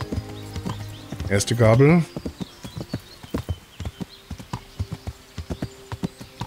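Hooves of a ridden horse clip-clop at a steady walking rhythm in the medieval video game Kingdom Come: Deliverance, close and distinct, with a short whinny and someone speaking briefly near the start.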